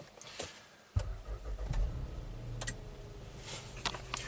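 A Honda car with a suspected faulty clutch and transmission starts up and pulls away on a test drive, its engine a low mid-level rumble heard from inside, with clicks and knocks scattered over the drone.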